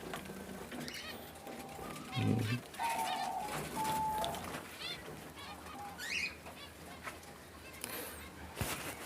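Diamond doves in an open outdoor aviary give soft, low coos and a few short tonal calls. The calls are faint and sit over a busy, rustling background.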